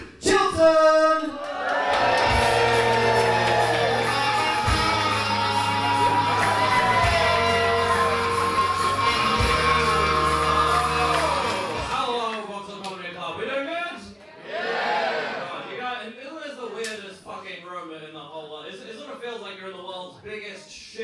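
A comedy club crowd cheers and whoops loudly for the host over driving walk-on music, the roar fading after about twelve seconds as the host begins talking over scattered laughter.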